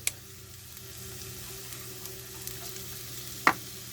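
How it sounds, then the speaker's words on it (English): Onions or shallots with garlic sizzling in hot olive oil, a soft, steady crackle throughout with a couple of sharp clinks of a utensil against the pan. "So we're going to add our onions or shallots, whatever you decide to use. We're going to add our garlic."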